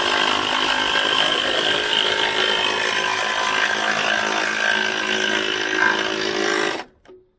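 A cordless Kobalt impact wrench rated at 150 foot-pounds runs continuously and loudly in a garage for several seconds with a rough buzzing whine, then cuts off sharply near the end.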